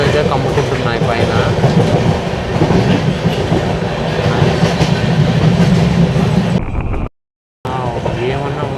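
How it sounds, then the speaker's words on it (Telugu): A train running through Kerala in monsoon weather rattles with rhythmic clickety-clack and rumbling from on board, loud and continuous, with a brief dropout near the end. "ట్రైన్ వెళ్తూ ఉంది."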